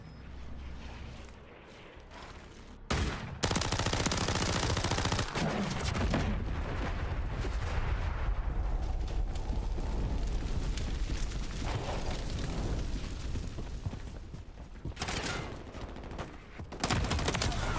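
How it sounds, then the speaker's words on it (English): Sustained automatic gunfire and explosions from Call of Duty: Modern Warfare III multiplayer, loud and dense with bursts of shots and heavy booms throughout, briefly quieter near the start before a near-continuous barrage. "Taking effective fire!"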